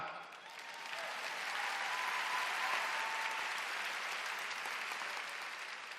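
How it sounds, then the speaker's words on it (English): Crowd at a Mt. Juliet High School graduation ceremony clapping, building quickly into a full, sustained round of applause that holds steady and then begins to ease, heard from a distance in a large space. "we can clap for that"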